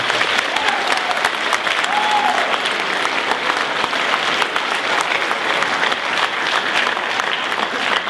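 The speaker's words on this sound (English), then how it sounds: "Please give him a big round of applause" Sustained applause from an audience at a Black History Month school assembly welcoming a pastor of Bethlehem Apostolic Temple in Wheeling, steady and dense throughout with crowd noise mixed in.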